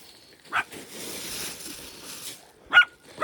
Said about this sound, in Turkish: İnsan Yasin amcasına havlar mı?